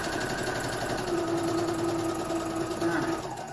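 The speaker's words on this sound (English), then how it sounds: "I'm going to get to the end, I'm going to back stitch a couple stitches" Sewing machine stitching steadily along a fabric headband, a continuous close, fairly loud mechanical whir with a fast even rhythm that holds for the whole stretch.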